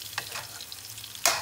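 Steak sizzling in a hot pan, a steady close crackling hiss with a brief stir-like swish early on and a louder burst of sizzle near the end, no voices.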